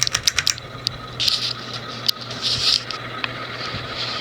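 Universal (SMC) Laguna 36-inch ceiling fan from about 1989 running with bad bearings, close irregular ticking and clicking over a low steady motor hum, with short bursts of scraping rattle.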